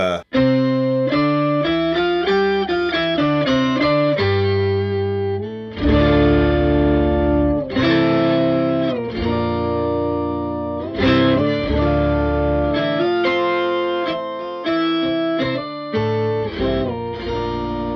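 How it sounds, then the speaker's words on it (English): Electric guitar notes and chords run through a pitch-shifting effect on an Eventide H90 Harmonizer, each one blooming into a long, washy reverb tail that fills the space between phrases. "So again, it's a pitch effect into a big reverb."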